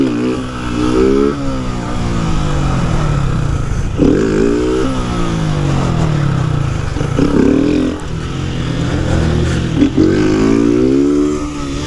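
A Honda Start 160 motorcycle engine revs repeatedly, rising and falling pitch sweeps at close range, loud and steady across the clip.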